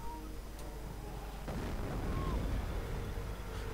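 Mortar rounds burst against a Sherman tank in a Company of Heroes 2 match, one broad low boom rising at about halfway and rumbling on through the rest amid steady battlefield noise.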